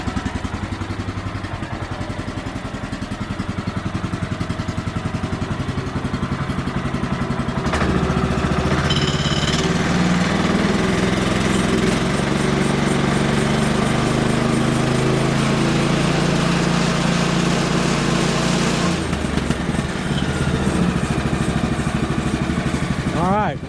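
A sawmill's engine is started on the first pull with seven-month-old fuel. A few seconds of handling noise give way to a loud, close, sputtering catch, and the engine then settles into a steady, rough running drone.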